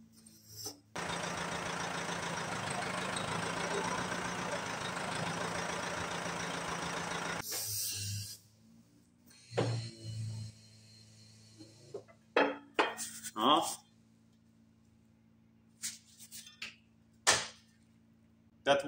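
A DIY hydraulic press brake in a workshop bends a flat steel bar about 15 by 50: a steady, loud pump drone runs for several seconds, then stops, followed by scattered sharp metallic clanks and knocks.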